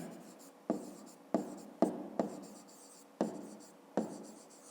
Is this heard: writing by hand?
yes